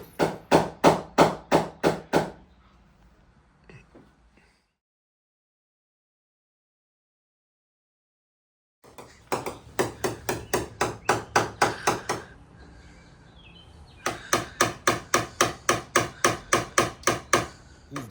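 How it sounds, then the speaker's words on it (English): Rapid rhythmic bursts of a hammer tapping on car body metal during paintless dent repair, the strikes coming in quick sharp series separated by pauses and a stretch of silence, close and loud with no talk. "the only guy I will let hit my car with a hammer."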